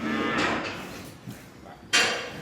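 Recipient cows on a farm moo in two short calls, the second louder and closer, with quiet farmyard background between them.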